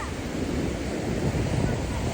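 Ocean surf breaking on a beach, a steady loud wash of waves with wind rumbling across the microphone throughout.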